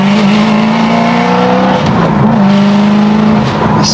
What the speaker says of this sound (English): Once this car is paired with the right exhaust, it just doesn't get better.